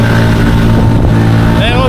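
A CFMoto 450 MT motorcycle climbing into the hills in Turkey gives a loud, continuous engine drone heard close up from the rider's position, with a rough wind-like rush throughout.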